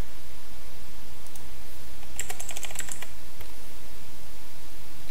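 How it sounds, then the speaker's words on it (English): Computer keyboard typing, a quick close-up burst of clicking keystrokes in the middle of a quiet stretch of faint background hiss, with no voices. "I'm just going to type in treat people with kindness."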